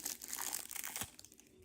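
Plastic and cardboard packaging of a Disney Lorcana starter deck being pulled open, a close, busy crinkling and tearing with a sharp crackle midway, no talking.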